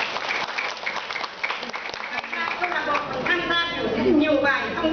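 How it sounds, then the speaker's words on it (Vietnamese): An audience at a ceremony applauds, a dense crackle of clapping that carries on as voices and music rise over it toward the end. "Xin vỗ tay hoan hô."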